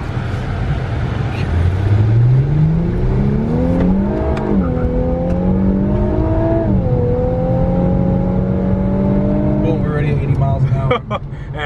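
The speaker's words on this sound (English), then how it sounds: "You got a little tire squeal too." A 2019 Infiniti Q50 sedan accelerating hard in manual mode, its engine note climbing through rising tones with a shift and brief tire squeal, loud and close from inside the car, with a voice talking over it near the end.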